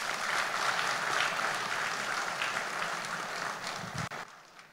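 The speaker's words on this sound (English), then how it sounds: "I think he does deserve a round of applause today." An audience applauds the Emir of Kano, Muhammadu Sanusi II, at an SDG Challenge event. Dense, steady clapping from a large crowd fills the room and then cuts off abruptly near the end.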